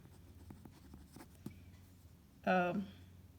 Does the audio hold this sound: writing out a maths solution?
yes